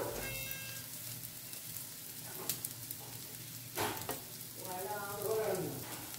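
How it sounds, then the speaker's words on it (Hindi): Kingfish cutlets frying in oil in a pan give a steady, close sizzling hiss with soft crackles and a few pan and spatula sounds throughout. "और अब इसे ना हमें दोनों साइड ना बढ़िया सा गोल्डन कलर आने तक हमें इसे फ्राई करना है।"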